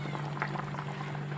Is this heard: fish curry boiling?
yes